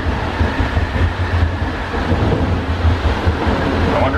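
JFK AirTrain loop train riding the track between airport terminals, a steady deep rumble and rattle of wheels on rail, loud and continuous without voices.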